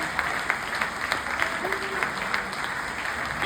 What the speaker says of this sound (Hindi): एक बार जोरदार जितनी तालियां हो सकती हैं उनके इस्तकबाल के लिए।